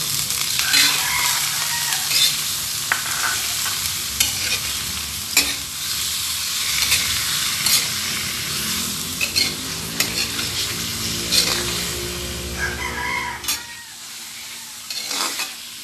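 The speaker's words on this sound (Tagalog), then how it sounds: "Haluin lang natin. Hintayin natin na yung chicken para mag light brown na siya." Chicken pieces stirred and sautéed in a pan for arroz caldo, with a steady sizzle and frequent scraping stirs and clinks throughout, close and fairly loud, no talk.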